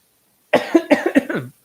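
A short burst of about four quick, harsh coughs from a dry throat, close to the listener, after a moment of silence.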